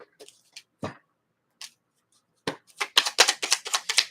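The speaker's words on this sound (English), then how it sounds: "Break the deck up and shuffle it." Scattered soft flicks, then a rapid run of crisp riffling snaps as a deck of cards is shuffled close by.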